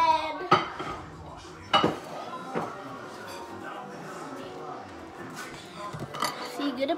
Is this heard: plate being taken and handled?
yes